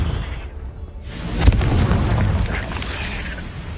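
A Confringo fire spell explodes in Hogwarts Legacy, a loud boom with a sharp burst followed by a rumbling, crackling tail of debris and game effects.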